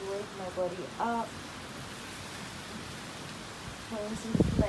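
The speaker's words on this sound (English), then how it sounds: "Started raining" Rain falls as a steady, soft hiss throughout, with a voice speaking briefly at the start and again near the end.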